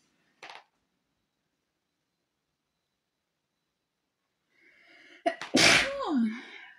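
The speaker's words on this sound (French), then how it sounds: "je vais éternuer, c'est les allergies" A single loud, close sneeze from allergies, with a sharp intake before it, following a brief faint sound and a long stretch of silence.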